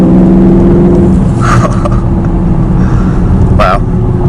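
A 2019 Porsche Panamera GTS accelerates hard with a loud, continuous engine roar from inside the cabin, the pitch climbing, briefly interrupted by short voice bursts.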